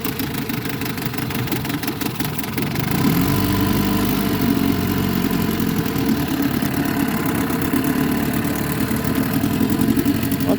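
A 1958 Wizard Powermatic 5.5 hp outboard motor built by Oliver and sold by Western Auto runs close by, a loud steady buzzing chatter that grows slightly louder and busier after a few seconds.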